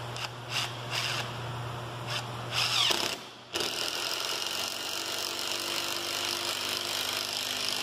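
A cordless impact driver sinks a thick screw straight into wood with no pilot hole, a steady loud buzzing hammer that cuts off near three seconds, then a sustained rattling drive continues close up.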